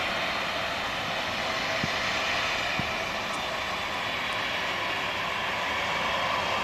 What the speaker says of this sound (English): Here's the KLM 737-800.